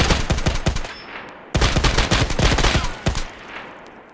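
Rapid bursts of automatic gunfire in a video game, fired from a rooftop doorway, with loud dense volleys in two stretches separated by a brief pause.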